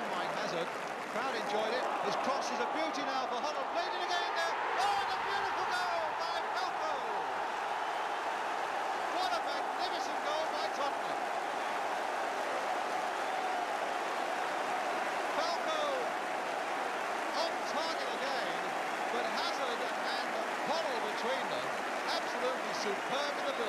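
A large football crowd at a Tottenham Hotspur match in the 1981-82 season applauds steadily, a broad wash of clapping and murmur heard at a distance under continuous commentary.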